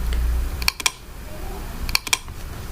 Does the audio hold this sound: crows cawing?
no